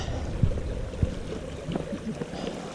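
Steady broadband wash of flowing creek water in Cades Cove, fairly close, with a couple of soft knocks and splashes; no talking.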